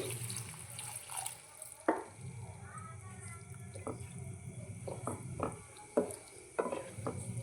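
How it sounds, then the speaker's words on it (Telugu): Water poured into a bean and tomato curry cooking in a pan, a steady liquid wash with a few sharp knocks of a vessel against the pot edge, heard close with no talking. "ఇప్పుడు వాటర్ వేసుకుందామండి."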